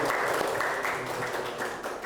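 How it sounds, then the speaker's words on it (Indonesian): An audience claps in a steady, dense burst of applause lasting about two seconds, with no voices over it. "Oke, tepuk tangan dulu."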